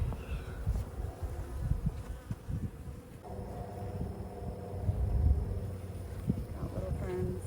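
Bees hum and buzz around a beehive spilling sugar water, a close, continuous insect drone with rustling handling noises underneath.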